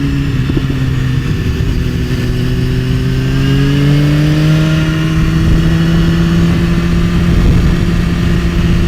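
A 2016 Suzuki GSX-R 750 sport motorcycle accelerates hard out of a corner while being ridden, its engine note climbing steadily in pitch, loud and close throughout with no talk.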